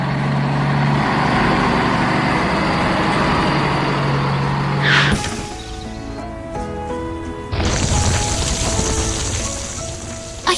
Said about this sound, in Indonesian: Melewati bangunan-bangunan kota, truk molen itu terus melaju dengan membawa beban yang sangat penting.